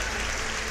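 Brief burst of audience cheering and applause at a live comedy show, dense and steady throughout at moderate loudness with no clear voice on top.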